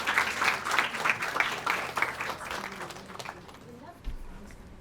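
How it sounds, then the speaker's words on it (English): Audience applause for a guest speaker at the Eco Fest 2024 inauguration ceremony, a dense burst of clapping that swells at first and then gradually thins and fades. "Let's give him a round of applause."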